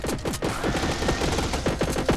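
Rapid repeated stun-gun blasts fire in the Alien Slayers space-soldier game, a dense burst of zapping shots over busy background effects, loud and continuous with no speech.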